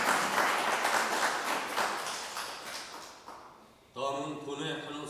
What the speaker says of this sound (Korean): 참석한 모두를 위한 환영의 의미로 큰 박수를 부탁드리겠습니다.